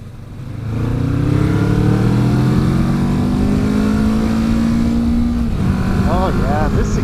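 A 2019 Kawasaki Vulcan S ABS on a demo test ride accelerates with a rising engine drone climbing through the gears, close and loud over wind rush, ending in brief revving blips.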